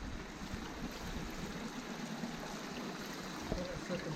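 Dark, peaty water rushes steadily down a small water ramp inside a syphon tunnel, giving a continuous, even wash of flowing noise that stays moderately quiet throughout.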